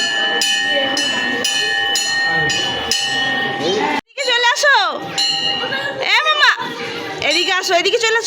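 A young girl ringing a bell, bright metallic clangs repeating steadily for a few seconds, then children's excited voices and chatter mixed with more ringing, close by.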